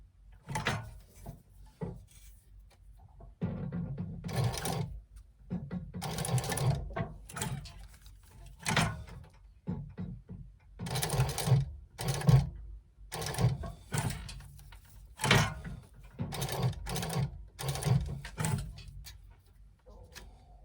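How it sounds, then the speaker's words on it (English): A sewing machine stitches a small box at the swivel and seam of a fabric wristlet, running in short close bursts of rapid whirring separated by brief pauses and faint handling sounds. "we're going to sew a little box just there at the swivel and the seam"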